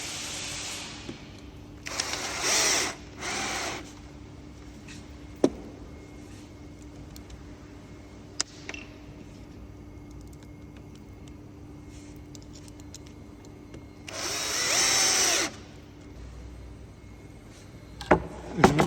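A power drill drives screws into the legs of a particleboard dresser during assembly, giving a few loud whirring bursts near the start and again later, with faint clicks and quiet room noise between them.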